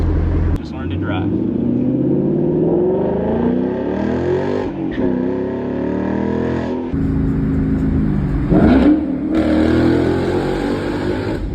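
Ford Mustang engine pulling hard under load in a high gear, a steady loud rumbling drone rising and falling with throttle throughout, heard from inside the car with people talking over it.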